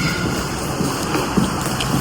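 A train rumbles steadily at a station on the way to Incheon airport, a continuous close mechanical hum with faint clicks and no voices.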